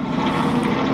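A helicopter flying overhead, a loud steady drone with a low rotor hum that fills the whole short stretch, with no voices.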